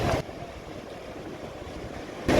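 Steady broadband wash of sea waves at Sea View beach in Karachi, a continuous rolling surf roar with louder bursts at the start and end, no voices.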